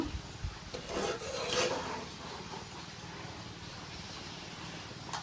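Fried hilsa fish in mustard sauce is gently stirred in a covered pot, giving soft scraping and rubbing strokes over a low background hiss, quiet and close, with a couple of stronger scrapes near the start.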